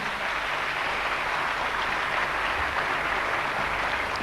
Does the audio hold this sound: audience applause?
yes